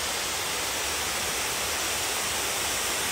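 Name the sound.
Cascade Falls waterfall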